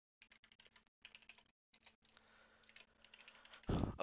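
Quiet, close keystrokes on a computer keyboard, short rapid clusters of clicks separated by brief pauses over a soft background hum, with a louder burst near the end.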